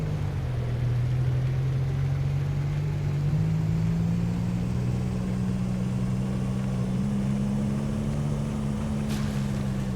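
A delivery vehicle's engine droning at full throttle in the game Easy Delivery Co., a steady low hum that rises slightly in pitch over a constant rushing wind-like noise.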